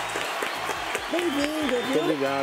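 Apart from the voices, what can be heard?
audience applause for the chef Cleiton César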